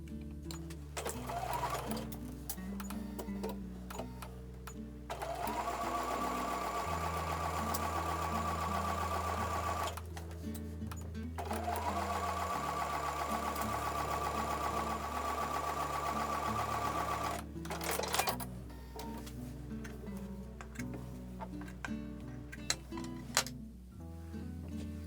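A sewing machine stitches quarter-inch seams on Amish Star quilt block pieces in long, steady, close runs. The motor drones continuously with brief pauses and light clicks between runs.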